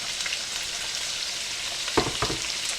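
Sliced sausage, diced onion and colored peppers sizzle steadily in a one-pot meal, with a couple of louder stirring scrapes near the end; no talking.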